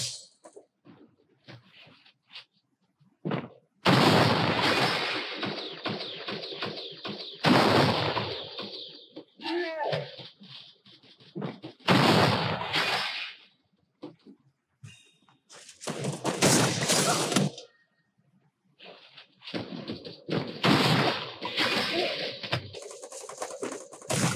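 Shotgun blasts ring out in the Free Fire video game, several loud bursts of gunfire separated by short pauses, with faint game noise in between.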